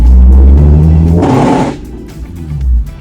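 Nissan 370Z grinding while driving: a loud engine drone with a harsh, raspy grinding burst lasting about half a second in the middle, then the engine note resumes.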